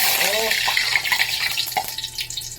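Water splashed into hot cooking oil in a pan, just before frying eggplant for an omelette, sets off a continuous loud, hissing sizzle, with a voice heard briefly at the start.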